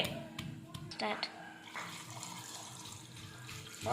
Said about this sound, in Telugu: మటన్ శుభ్రంగా కడుక్కోవాలండి